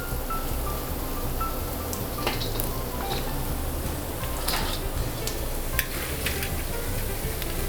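Cajun candy sizzles steadily in hot oil, with a dense, even crackle and occasional sharp pops, loud and close with no talk over it.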